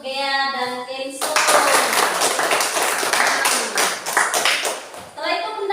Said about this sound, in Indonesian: Yuk, tepuk tangan untuk Gea dan Kenzo.